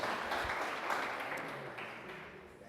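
An audience claps steadily in a spiritist lecture hall, a dense, even patter of applause that slowly fades, heard alone without talking.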